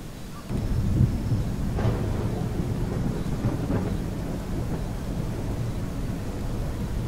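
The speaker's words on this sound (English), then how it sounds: "This rain's supposed to pick up substantially" Steady heavy rain with low rolling thunder in a 1972-era military simulation game, a dense continuous roar that swells slightly after the start and holds throughout.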